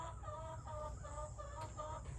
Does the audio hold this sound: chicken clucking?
yes